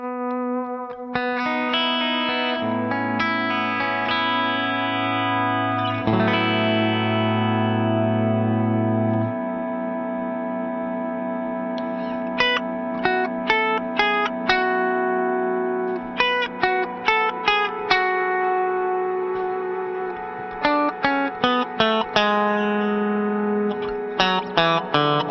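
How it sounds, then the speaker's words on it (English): A Resound V2 reverb pedal on its hall setting with freeze sustains long held guitar chords that ring and overlap, then shorter plucked notes and strums sound over the frozen wash, alone without voices. "Number six is the Hall and a Freeze."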